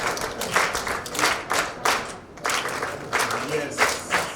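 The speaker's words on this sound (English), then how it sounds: "Once again, a good round of applause for her." Audience applause for a student at a government school mentorship event, with bursts of clapping rising and falling under a speaking voice.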